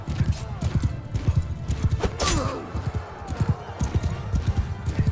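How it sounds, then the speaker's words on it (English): An armored horse gallops in a rapid, steady clip-clop of hooves during a Mount & Blade II Bannerlord battle, with crashing impacts and someone talking over it. "just from the armored horse running through them"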